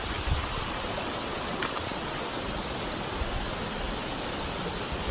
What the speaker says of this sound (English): A little creek.